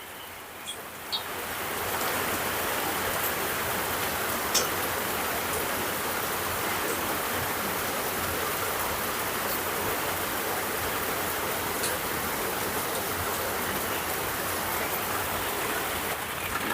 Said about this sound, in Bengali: ভুজিয়াটা ভেজে নিয়েছি